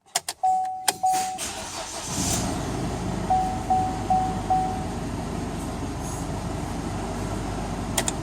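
After a few sharp clicks, a car engine with a 6L50 transmission fires up and runs at a steady, close idle, briefly started to pump transmission oil.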